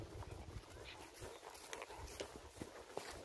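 Horse hooves clop at a walk on a farm, a tame horse heading out to fetch dairy cows, with soft uneven steps close by over faint outdoor background.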